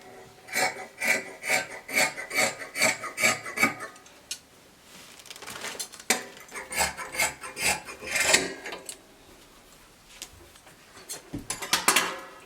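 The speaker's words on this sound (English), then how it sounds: "I'm cutting out the back neckline." Scissors cut dress fabric along a back neckline, giving a run of close, rhythmic rasping snips in quick bursts, with pauses between groups of cuts and no talking.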